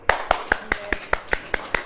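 Hands clap in a steady, evenly spaced rhythm, about nine sharp claps in two seconds, close and clear with a little room echo, from a church congregation during a sermon.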